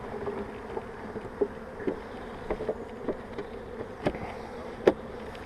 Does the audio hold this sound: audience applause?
no